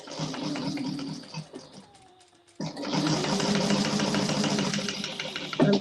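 A sewing machine stitching a bag flange runs in steady mechanical bursts, pausing briefly in the middle before starting up again and running loudly to the end.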